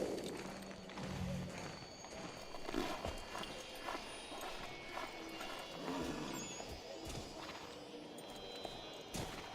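A horse in Assassin's Creed 3 in snow, with repeated hoof clip-clops and scattered thuds under game ambience and faint background music.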